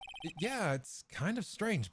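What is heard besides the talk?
phone ringtone ringing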